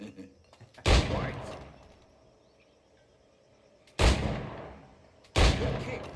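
Three sharp, heavy firearm blasts from Assassin's Creed IV Black Flag ring out near and loud, the first alone and the last two close together, each trailing off in a long echoing decay.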